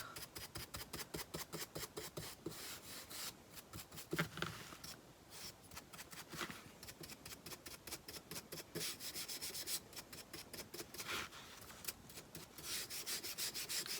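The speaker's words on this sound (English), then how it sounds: "I'm going to take my black Jolie wax and just go around the edges" Black wax rubbed by hand around the edges of a rustic piece of thrifted scrap wood makes a steady, rhythmic dry scrubbing close by, quiet and continuous with short pauses, no talking.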